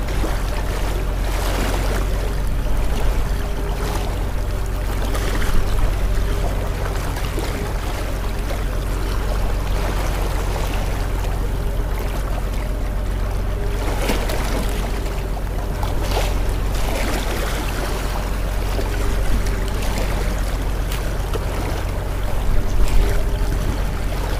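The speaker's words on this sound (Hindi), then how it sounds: "पानी की लहरें और पानी की आवाज़ साफ सुनाई दे रही है" Lake water at the Samaspur bird sanctuary laps and sloshes continuously nearby, a steady wash of small waves with occasional splashier swells and no talking.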